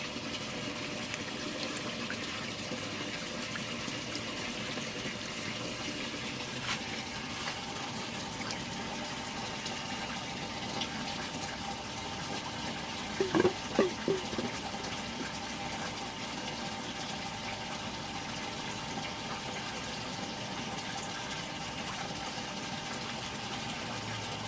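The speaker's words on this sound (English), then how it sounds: "they're a little scared because of the new flow of water and everything" A new water pump in a home fish tank gives a quiet, continuous flowing hiss and hum, with a few soft clicks or splashes midway through.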